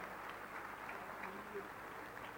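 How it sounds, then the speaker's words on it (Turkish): A crowd at a photography award ceremony attended by the Turkish president gives sustained applause for a painting, a faint, dense, even patter of clapping heard from a distance. "Efendim kuvvetli alkışlarınız lütfen bu güzel tablo için gelsin."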